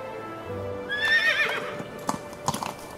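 A horse arriving with a stray horseman, a loud neigh and whinny rising over the scene, followed by a few sharp hoof clops close by.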